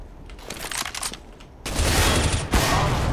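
A flashbang goes off in a CS:GO round with a sharp burst of gunfire-like noise, followed by a loud broadband blast that holds steady to the end.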